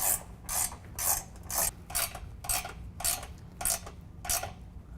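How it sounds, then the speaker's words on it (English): A ratchet tightens 13mm bolts into a Ford Super Duty truck's rocker panel, giving about nine quick bursts of sharp clicking in a steady back-and-forth rhythm, close by and alone. "go ahead and tighten down the bolts going into the rocker panel, also with 13mm"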